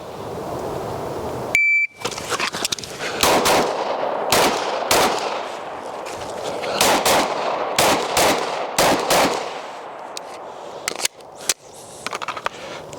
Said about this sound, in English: Ten shots, 10 targets.